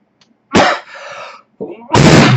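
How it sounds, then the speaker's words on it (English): A man coughs at close range: a sharp, harsh cough, a brief raspy trailing breath, then a smaller throaty sound and a second strong cough, with no talking. "I hope you hear more than just me coughing"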